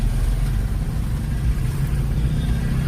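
A car in a beginner's driving lesson pulls away as the clutch is released, its engine giving a steady, close, low rumble with no talk over it.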